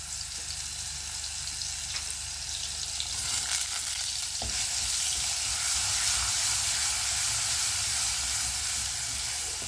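Green paste hits hot oil for a Malvani clam curry with drumsticks and potato, setting off a steady broadband sizzle that swells louder partway through and keeps frying continuously, with no voices.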